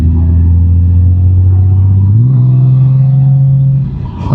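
Steady low rumble of a Honda Gold Wing motorcycle engine while riding in tour mode, loud and close, its pitch stepping up slightly midway, then easing off near the end.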